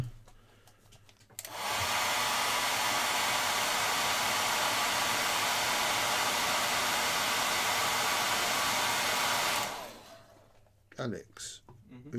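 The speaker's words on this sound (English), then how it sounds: "Let me get my hair dryer." A handheld hair dryer starts abruptly, blows with a steady, loud broadband roar for about eight seconds, then shuts off; brief speech is heard before and after it.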